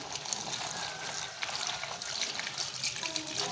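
Water runs steadily from a tap, splashing and trickling as ridge gourds are rinsed beneath it.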